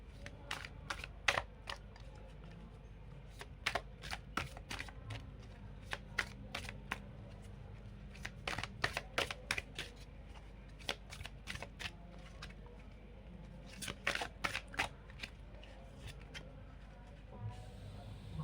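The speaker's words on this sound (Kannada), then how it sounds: "ನಾನು ಮತ್ತೆ ಕಾರ್ಡ್ ಶಫಲ್ ಮಾಡ್ತೀನಿ" Tarot cards being shuffled by hand, a quiet close series of rapid riffling bursts and flicks repeating irregularly over a low steady background hum.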